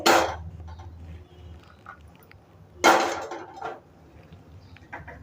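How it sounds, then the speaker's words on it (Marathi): Two sharp metallic clanks, a kadhai set down on a gas stove, the second louder, with quieter knocks and rattles between. "कढई ठेवते"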